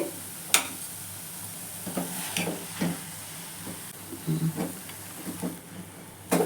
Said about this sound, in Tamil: இந்த மாதிரி நம்ம கிளறி விட்டுக்கிட்டே இருக்கணும்